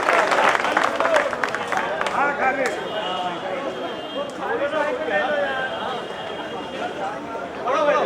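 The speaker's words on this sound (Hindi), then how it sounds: "थोड़ा सा जोरदार तालियां" Applause from the audience at an Urdu poetry recitation, a steady broadband clatter running under a voice throughout.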